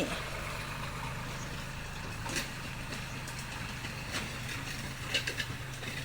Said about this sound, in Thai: นี่ก็คือรถไถก็กำลังจะเกี่ยว เอา อาดินนะคะที่อยู่แถวข้างๆเข้าไปนะคะ